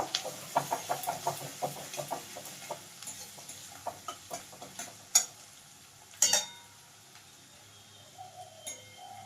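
Vola fish curry masala sautéing in a pan: irregular clicks and scrapes of stirring over a faint, soft sizzle, with a few sharper knocks near the end.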